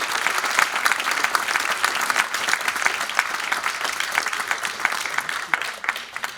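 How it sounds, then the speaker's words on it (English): A gracious round of applause for honored individuals and organizations at a Malibu Veterans Day event, dense sustained clapping from the audience, steady and full for several seconds with no voices over it. "Please join me in giving these individuals and organizations a gracious round of applause"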